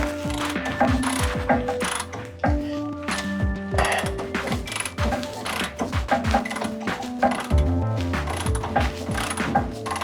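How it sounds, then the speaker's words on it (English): A ratchet loosens a bolt on the lower control arm of a 2003-2007 Honda Accord, with rapid, close, loud pawl clicking that runs continuously in quick bursts for the whole stretch. "just ratchet it off there"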